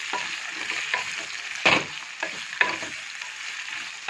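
Coconut being sautéed with coriander and mint in a pan for a chicken kurma: a steady soft frying hiss runs throughout, broken by a few sharper scraping stir strokes, close and alone with no talk.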